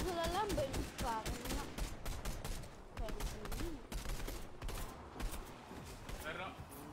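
Rapid bursts of video game gunfire crackle under excited talking, with shots clustered in quick runs throughout.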